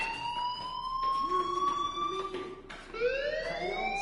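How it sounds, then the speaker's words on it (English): A fire alarm in a video game sounds with rising, wailing siren-like tones, a sweep that breaks off and restarts, loud over a faint background hum. "do you hear that fire alarm? That means you should be outside."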